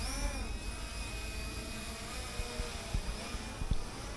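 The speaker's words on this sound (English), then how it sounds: "You'll hear it blowing, and there they go." A Holy Stone HS320 brushless drone's bubble-blowing mechanism runs with a steady whirring hum and faint whine, close by, with a few soft knocks near the end.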